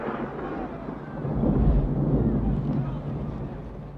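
Thunder from an episode of the TV show Quantum Leap: a deep, rolling rumble that swells to its loudest midway, then lingers as a steady roar before cutting off.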